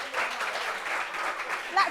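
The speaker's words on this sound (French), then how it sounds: "Applaudissements pour eux." An audience applauds a guest at a gathering on Réunion, a sustained wash of clapping throughout, with a voice briefly audible near the end.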